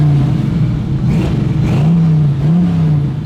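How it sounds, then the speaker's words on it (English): A 1969 Chevrolet Camaro with a small-block V8 idles steadily up close, a deep, even rumble with a slight rise and fall in pitch, heard alone with no talking. "This car sounds good too"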